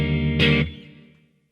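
A single strummed chord on an electric guitar played through an amp's clean channel with basic EQ and a touch of reverb rings out, then decays smoothly into a soft tail.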